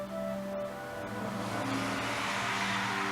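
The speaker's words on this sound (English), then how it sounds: "Annoying cars going by again." Cars pass by steadily, a continuous engine and tire hum that swells slightly as the traffic goes past.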